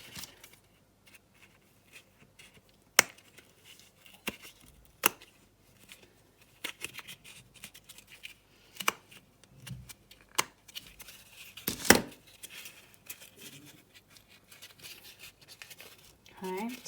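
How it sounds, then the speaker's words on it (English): Scissors snipping a cardboard egg carton, with soft scattered cuts and crinkles, a few sharper snips, quiet and close, amid faint handling noise. "take my scissors and I cut where this wall meets the floor."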